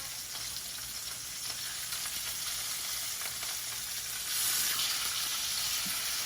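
Steady hiss and crackle of salmon frying in a hot pan for a Cajun salmon pasta, constant and close, rising louder near the end with no voices.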